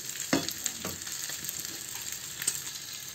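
Chicken kabsa ingredients fry in a kadai with a continuous hiss and crackle, with occasional louder spatters and stirring scrapes and no voices.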